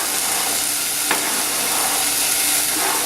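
Onion dropped into a pot of chicken and chickpea stew sizzling steadily, close and loud, with a brief soft thump as it lands and a continuous frying hiss throughout.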